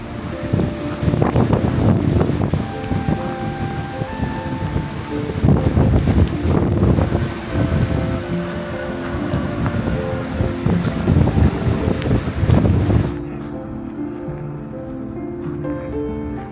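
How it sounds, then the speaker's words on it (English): A maintenance boat motor drones steadily on open water at Sunset Park, Las Vegas, with wind buffeting the microphone, then the engine noise drops away to a quieter hum near the end. "Out on the water, a maintenance boat passes by."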